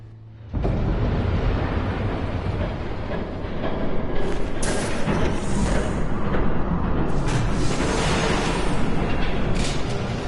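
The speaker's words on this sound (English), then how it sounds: "There's a train coming." A train approaching in Batman: The Telltale Series, a loud, steady rumbling roar that starts abruptly and swells slightly as it draws near, with heavy broadband mechanical noise throughout and no talk.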